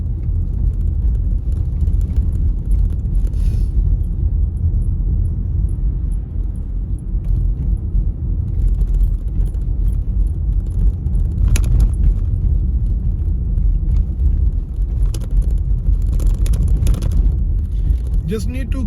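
A car drives a potholed road in Manchester's Cheetham Hill area with a steady, loud rumble and constant road noise throughout, and occasional rattles and knocks from the cabin.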